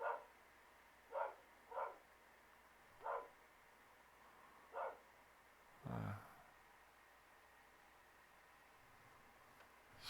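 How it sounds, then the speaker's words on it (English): A dog barks indoors, six short sharp woofs spaced irregularly over ten seconds, fairly close, with a brief low thump partway through and quiet room noise between. "Sorry, my dog is barking."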